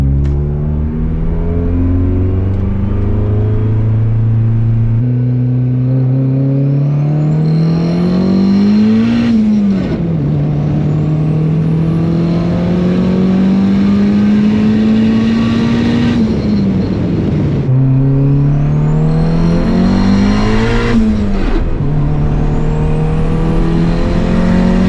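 A turbocharged Honda Civic running 25 psi of boost on pump gas screams through repeated dyno pulls, its loud engine note climbing steeply in pitch several times, dropping back and rising again with no talking over it.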